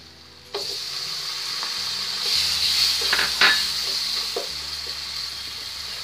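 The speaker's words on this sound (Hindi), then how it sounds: "अब हम इसमें टमाटर ऐड कर देंगे" Chopped tomatoes dropped into hot, sizzling masala in a pan for aloo gobhi: a sudden loud hiss that settles into a steady close frying sizzle, with a few utensil scrapes and taps.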